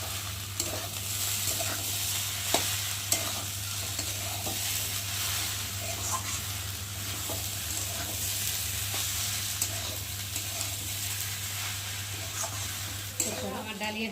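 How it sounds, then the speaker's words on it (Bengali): Dal and broken wheat are stirred in a hot pan, giving a steady soft sizzle with occasional faint scrapes of the spoon against the pan, close and fairly quiet throughout. "ভালো করে ডালিয়ার সাথে ডালটাকে ভালো করে নাড়বো।"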